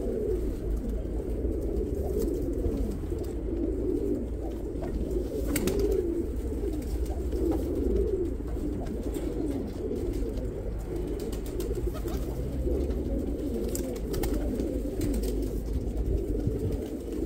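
Pigeons coo steadily in a loft, a low, continuous murmur of overlapping calls with an occasional faint rustle, and no voices.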